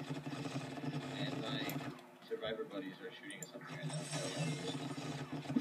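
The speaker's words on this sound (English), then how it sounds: "Help! Machine gun hatchet!" An automatic-firing hatchet in the survival game DayZ produces a rapid, rattling, machine-like chatter of repeated strikes under excited voices, pausing briefly midway before starting again.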